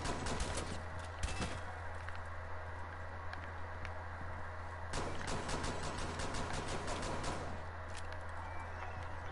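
Gunshots in a Rainbow Six video game: fairly faint, scattered sharp cracks and short volleys over a constant hum of game noise.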